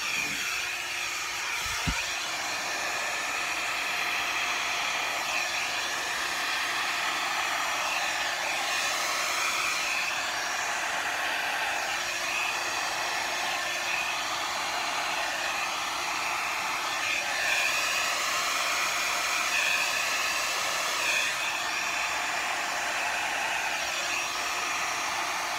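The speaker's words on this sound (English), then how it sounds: "hair dryer." Hair dryer blowing steadily over a resin Dutch pour, a continuous near airy whir with a low hum that holds at an even loudness throughout, with no talking.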